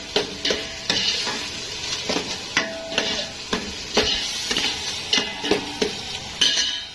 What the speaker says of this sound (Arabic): احط حبه كزبره ناشفه وهقلب يا دوب بس تتسبك كده